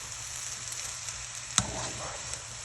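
Moong dal halwa being stirred in a pan with a spoon, a soft continuous sizzle with one sharp scrape of the spoon against the pan near the end.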